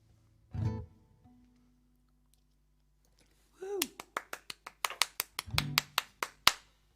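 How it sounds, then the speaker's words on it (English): A small audience at a livestream music gig claps sparsely, about a dozen sharp, uneven claps close by after a brief voice and a quiet pause. "You're clapping less."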